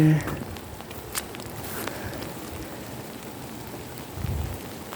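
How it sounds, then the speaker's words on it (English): Heavy rain falling in the woods, a dense steady hiss of drops on leaves and ground with a faint low rumble, close and continuous. "heavy rain is coming"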